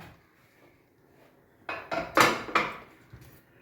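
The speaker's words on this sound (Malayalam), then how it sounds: "ഇപ്പോൾ കുറച്ച് ചൂട് പോയിട്ടുണ്ട് നമുക്ക് ഈ കുക്കർ ഒന്ന് തുറന്ന് നോക്കാം" A pressure cooker lid is opened after the cooker has cooled a little. A few sharp metallic clanks and scrapes come close together near the end, following a quiet start.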